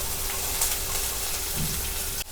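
Chopped large onions with curry leaves sautéing in hot oil in a pan for potato puttu, a steady close crackling sizzle running continuously without talk.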